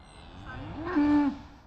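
A cow on a small ranch herd gives one close, loud moo with a rising then steady low tone, over faint background noise.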